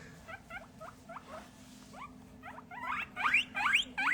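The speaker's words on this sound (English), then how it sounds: "These are our guinea pigs, and they're really loud." Pet guinea pigs give a rapid run of high, rising squeaks that start moderate and grow louder and more frantic toward the end, close by over a low steady hum.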